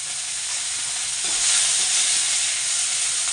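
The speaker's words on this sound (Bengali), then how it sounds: "তেলে দিয়েছি কালো জিরে" Black cumin seeds sizzle in hot oil, a steady broad hiss that swells slightly midway and continues without a break, close and fairly loud, with no voices.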